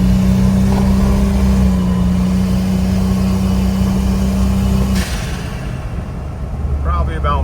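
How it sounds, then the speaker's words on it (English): A custom turbocharged Jeep Wrangler Rubicon with a 4.7 stroker engine accelerates moderately, giving a loud steady drone with a held engine tone that drops away after about five seconds into rougher road and wind noise. "Do a decent little acceleration right here"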